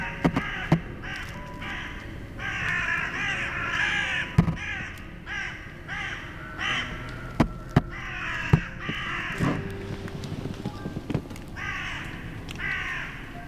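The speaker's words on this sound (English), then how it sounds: "something suddenly disturbs the crows in the forest. They start cawing loudly" Several crows caw loudly and repeatedly in a forest, overlapping one another, with sharp knocks and rustles scattered throughout.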